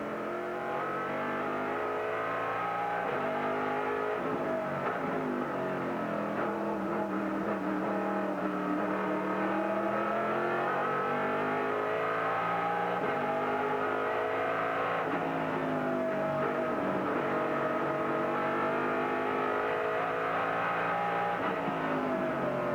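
Sports race cars from the 2003 Grand American Rolex Sports Car Series roar continuously, engines revving and accelerating with rising and falling pitch sweeps as they race, loud and steady throughout with no talk.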